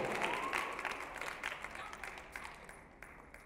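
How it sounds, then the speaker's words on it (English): Audience applause at a breast cancer awareness press conference, a dense wash of clapping that is loudest at the start and gradually thins out over a few seconds, with some voices in the room mixed underneath. "Give a round of applause."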